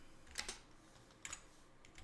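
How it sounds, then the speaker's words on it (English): Quiet keystrokes on a computer keyboard come in two short clusters of clicks separated by a pause, faint and close with no talk. "I'm just going to type these out"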